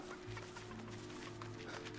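Chickens clucking in the LEGO Fortnite video game, soft short clucks repeating over a faint, steady game background, quiet and unaccompanied by speech.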